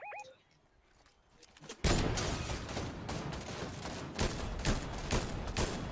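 Rapid bursts of gunfire in a Fortnite match crackle in a dense, continuous volley after a quiet opening, loud and close with repeated sharp shots.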